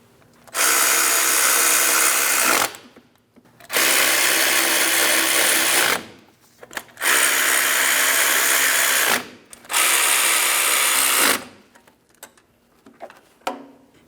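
A power tool snugs the engine mount bolts on a 2003-2007 Cadillac CTS 3.6L V6 in four loud, close whirring bursts of about two seconds each, followed by a few quick short blips.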